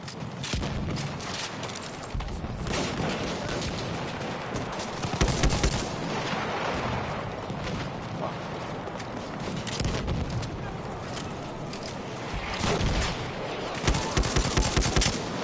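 Gunfire in the video game Battlefield 1 crackles in dense, repeated bursts for the whole stretch, loud and continuous, with no clear talk on top.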